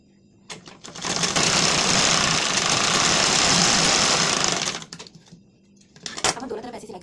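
A sewing machine stitches blouse fabric in one continuous loud whirring run of about four seconds, followed by a pause and a short second burst, with faint handling noises in between.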